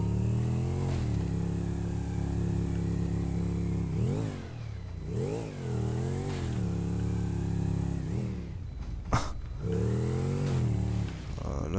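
A motorcycle engine in GTA 5 revs and surges in repeated bursts, pitch climbing and falling as it strains, with a steady engine drone between the revs.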